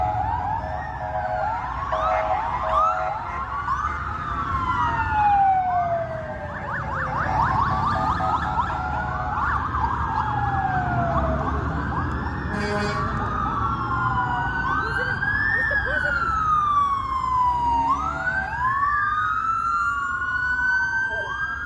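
A presidential motorcade drives by with several sirens wailing and yelping over one another, loud and sustained throughout, with no talking.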